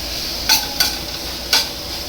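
Tomatoes sautéing in a pan for a paneer curry, a steady soft sizzle broken by three crisp spoon scrapes against the pan, close up.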